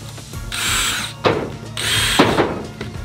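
A power drill drives screws into a deck board in two loud whirring bursts, each ending in a sharp clack as the screw seats, close by with small handling knocks in between.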